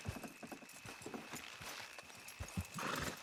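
Horse hooves clip-clop in Red Dead Redemption 2, a steady series of light, close knocks with ambient game sound and a brief burst of noise near the end.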